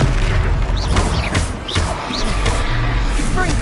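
Confringo blasting spell exploding in a Harry Potter video game battle, a loud booming crash over a dense rumble of game effects with sharp impacts and rattles.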